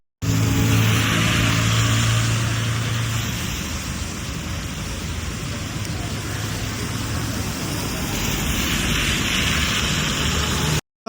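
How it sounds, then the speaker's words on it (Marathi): Heavy rain pours down in a steady, dense broadband roar that barely varies, loud and continuous throughout near a Ganpati idol workshop in Parel, Mumbai, with no clear talk. "किती जोरात पाऊस आहे बघा या साईडला"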